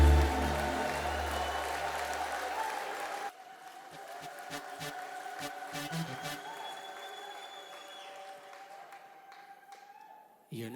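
Worshipping congregation applauding loudly with ululation at the start, then the crowd noise drops away to quieter clapping and murmur with a sustained tone.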